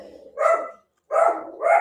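A dog barks three times in quick succession, loud and close, with a short pause before the last two barks, alone with no talk.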